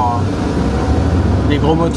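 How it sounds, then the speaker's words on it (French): A big engine in an automatic van in the USA rumbles steadily from inside the cabin, a low droning hum under road noise, while a voice talks over it. "Moi j'adore le bruit en fait des gros moteurs"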